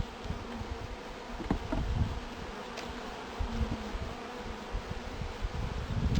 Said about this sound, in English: Bees are very busy.